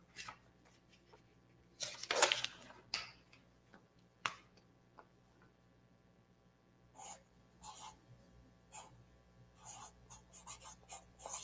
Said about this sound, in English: I gotta write that.